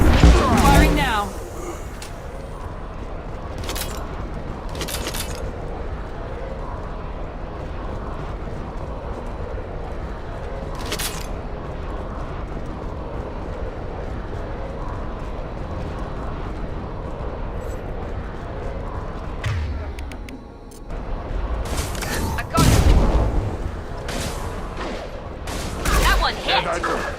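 Weapons fire in the Mass Effect 2 video game: sustained rattling gunfire broken by sharp, loud blasts at intervals, with voices talking over the action.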